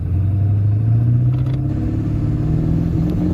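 A 1997 Ford F-250HD with a 7.3L diesel engine and a cylinder contribution fault accelerates on the road, a steady loud low rumble and drone rising slightly in pitch from inside the cab.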